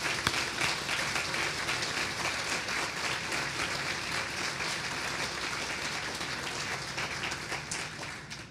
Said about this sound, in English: So let's offer them a round of applause.